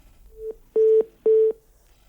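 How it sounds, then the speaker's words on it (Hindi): Telephone tone after a disconnected call: a short beep followed by two longer steady beeps in an even rhythm, clear and alone. "फोन कट गया है, आप फिर से हमें संपर्क कर सकते हैं।"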